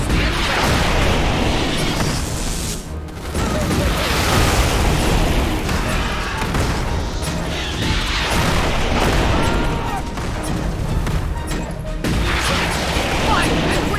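Rocket launcher fire and explosions in the Starship Troopers: Terran Command strategy game form a dense, continuous roar of blasts and booms that fills the whole stretch at high volume, with brief dips, as voices talk over the battle.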